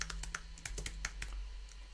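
Quick, light keystrokes on a computer keyboard tap out an irregular rhythm of about a dozen clicks, close and soft over a low steady hum, with no talking.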